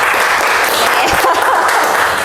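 Classroom applause for a student after her explanation, a short, loud burst of many hands clapping together, close and even throughout.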